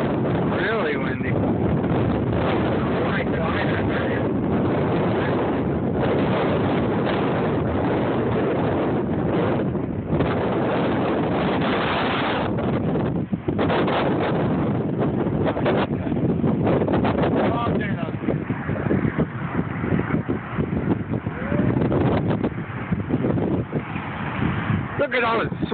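Strong wind blasts across the water during a lightning storm, a loud, unbroken roar of gusts buffeting the microphone with a boat's rumble beneath, while people talk over it.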